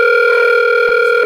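A phone sounds an incoming-call tone, a steady loud electronic beep held for just over a second and then cut off.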